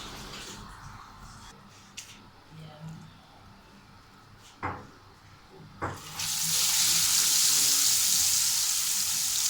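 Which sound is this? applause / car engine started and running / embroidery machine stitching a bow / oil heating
oil heating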